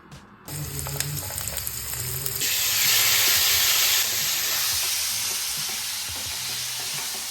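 Vegetables stir-frying with minced garlic and julienned ginger in a hot pan, a steady close sizzle and hiss that swells loud midway, with scraping stirs and light clatter throughout.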